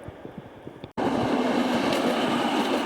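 A Prague tram rolls along its rails near a turning wye, with rhythmic clicks and thumps, then after a sudden break a loud, steady rumble and rail hiss close by. No voices are heard.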